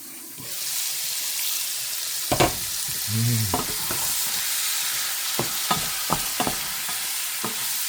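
Chicken sizzles steadily in hot oil in a pan, a continuous close frying hiss with a few sharp clatters and scraping stirs partway through.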